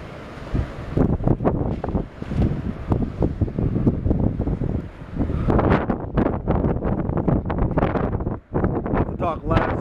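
Strong gusty wind buffets the microphone outdoors after a heavy overnight snowfall, roaring loudly and almost continuously while people talk over it.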